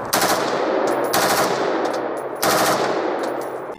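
Rapid automatic fire from a toy M16 gun in three loud bursts, with a short pause between each burst and no talking.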